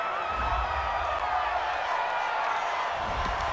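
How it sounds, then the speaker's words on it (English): Simulated home stadium crowd in Madden NFL 20 keeps up a steady roar of cheering after a penalty call, dense and even throughout. "This home crowd, they're happy with that call."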